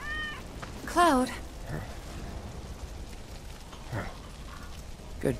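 A cat meows briefly in Final Fantasy VII Remake, a single short call standing out over quiet background game ambience, with spoken dialogue nearby.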